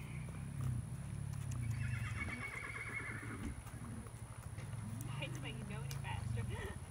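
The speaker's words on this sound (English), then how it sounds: "he's just a doodle horse" A horse neighs and whinnies with hooves clip-clopping nearby, heard under a steady background of people talking throughout.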